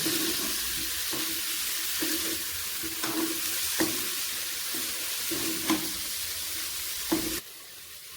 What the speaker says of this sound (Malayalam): ഒരു സ്പൂൺ വെളിച്ചെണ്ണ കൂടി ചേർത്ത് ഇളക്കിയെടുക്കാം